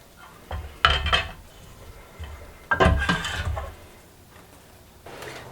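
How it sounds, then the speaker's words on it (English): A metal water bath canner is moved onto a stove burner with two bursts of clanking and scraping metal, close and fairly loud, separated by quieter moments with no talking. "I have to move this canner, my water bath canner, onto this burner and get it boiling now."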